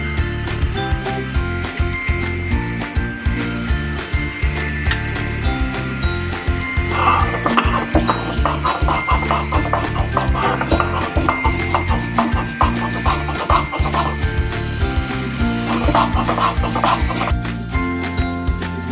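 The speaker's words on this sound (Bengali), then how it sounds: "একটু কালো সর্ষে আর সাদা সর্ষে নিয়েছি, এগুলো আমি বেটে নেব" Black and white mustard seeds are ground by hand for a bottle gourd leaf dish, giving a steady rhythmic scraping and knocking of repeated strokes, close and moderately loud throughout with no talking.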